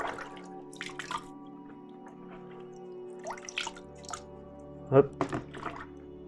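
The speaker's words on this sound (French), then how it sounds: "Il suffit juste de rincer dans l'eau." An Aquael Versamax mini filter sponge is rinsed in water, giving scattered splashes and drips, with a brief burst of sloshing near the end and someone speaking intermittently.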